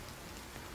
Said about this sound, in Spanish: empezó a llover